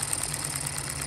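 A hit-and-miss gas engine runs steadily with a low, even chugging hum and fast mechanical ticking, close and continuous with no voices.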